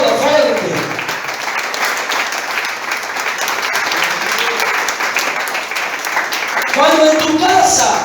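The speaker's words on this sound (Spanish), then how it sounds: "aplauda fuerte." A church congregation applauds loudly in a steady, sustained burst of clapping that fills the room, with voices mixed in throughout and a brief swell near the end.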